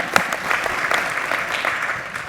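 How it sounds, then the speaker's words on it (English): Conference audience applause, brisk overlapping clapping from a room of people, steady and fairly close for a couple of seconds. "Just one more round of applause, guys."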